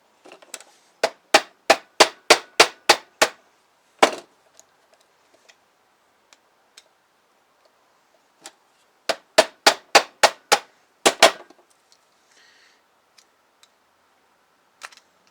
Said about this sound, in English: now we're just going to hammer off the bottom plate